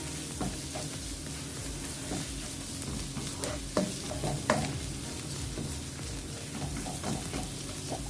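Paprika being stirred into onion and garlic frying in a pan, a steady close sizzle under irregular scraping strokes of a spoon, with a couple of sharper knocks partway through.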